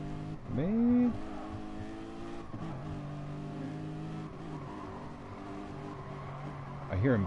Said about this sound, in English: I hear him backing off the throttle.